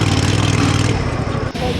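Racing lawn mower engine labouring loudly up a big, steep, soft sand hill, a dense buzzing drone close by that eases slightly partway through, with no talk over it.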